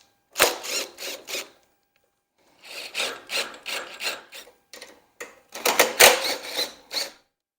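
Bolts of 10 mm being loosened and removed from the cover of a Honda GX160 engine on a Tru-Cut C-25 reel mower, heard as three close bursts of rapid ratcheting and rasping metal clicks separated by pauses, with no talking.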